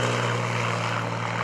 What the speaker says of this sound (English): On the takeoff roll, you can certainly see when that airplane gets